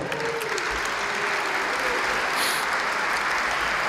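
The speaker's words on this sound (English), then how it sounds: "they clapped a lot for Paul" An audience at a brass ensemble concert in a Pasadena Presbyterian church breaks into loud, sustained applause. Dense, even clapping fills the hall throughout with no break.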